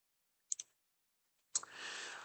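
A computer mouse gives two quick soft clicks, then another click about a second later, followed by a faint hiss. All sounds are close and quiet, and nobody speaks.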